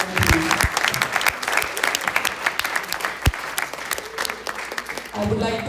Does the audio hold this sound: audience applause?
yes